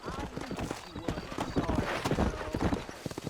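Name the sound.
horse hooves galloping, video game Red Dead Redemption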